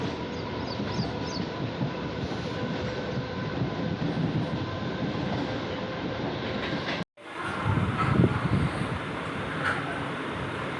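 A Mumbai local commuter train from Panvel rumbles along with steady clattering wheels and broad roaring noise, a brief drop-out midway before the loud rolling continues.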